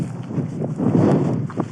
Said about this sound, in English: It is quite windy up here.